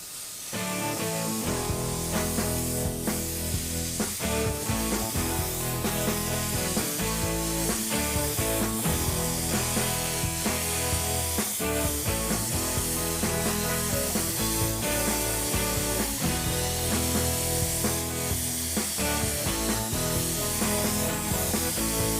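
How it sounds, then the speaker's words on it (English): An airbrush sprays black water-based paint in light coats over vinyl masks, a steady close hiss running continuously beneath background music with no talk. "So let's get to spraying the black."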